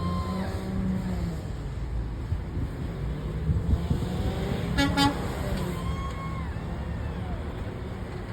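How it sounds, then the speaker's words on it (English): A car horn gives a short, loud honk amid steady engine and road noise from inside a moving vehicle during a street drive, with other traffic sounds and passing horn toots fainter around it. "Honk your horn for democracy."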